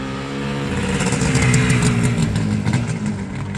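Revving of a 1978 Yamaha RD400 two-stroke motorcycle through its stock factory exhaust, a loud, buzzy, close engine note that swells and falls briefly, alone without voices.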